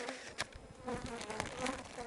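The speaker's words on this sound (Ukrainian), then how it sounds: "Ось тут бджола." Honey bees buzz at an apiary hive, a close, continuous drone with individual bees swelling louder as they pass near, fairly quiet overall.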